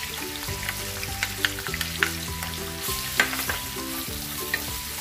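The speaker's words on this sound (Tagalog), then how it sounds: "Ilagay na rin natin yung ating bawang." Garlic sizzling in a hot pan for pork mechado, a steady loud fry with clinks and scrapes of a spatula stirring throughout, no voices.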